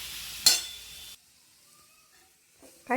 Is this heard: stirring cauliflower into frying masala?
yes